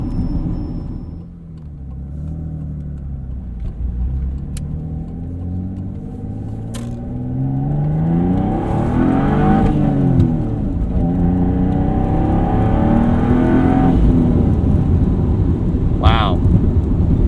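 A 1992 Dodge Stealth RT Twin Turbo accelerates hard, its engine note climbing through rising sweeps with gear changes, a loud close rumble building over several seconds inside the cabin.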